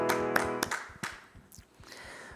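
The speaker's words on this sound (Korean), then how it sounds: "함께 영광의 박수를 돌리겠습니다." A church congregation claps after a hymn at a Sunday worship service, a burst of scattered hand claps over a fading sustained musical chord, moderately close and thinning out toward the end.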